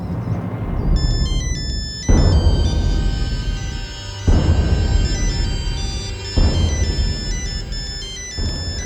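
A phone ringtone plays a repeating melodic pattern in loud bursts about every two seconds, steady and close, with no voices over it.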